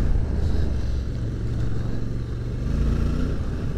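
A Honda CRF1100L Africa Twin Adventure Sports motorcycle reaccelerating on a loose surface, a steady loud close engine drone with no talk over it.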